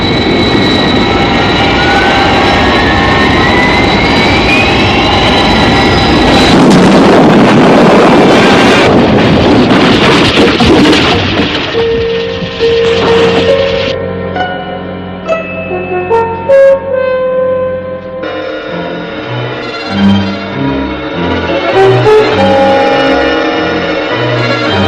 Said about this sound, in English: Flight deck area. Stand by for emergency landing.